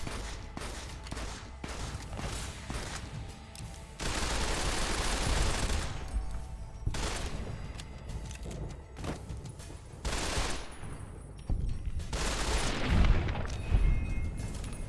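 Gunfire in Fallout: New Vegas, loud bursts of rapid shots and booming blasts in several waves with brief gaps between them, no talking.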